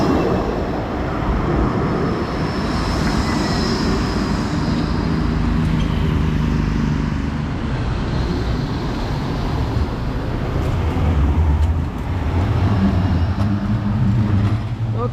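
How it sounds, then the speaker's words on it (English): Riding aboard a Blackpool tram: a continuous, close rumble of wheels and motor with a broad roar that swells and eases as the car travels, and no clear speech. "I'm going to get on this next tram back to North Pier"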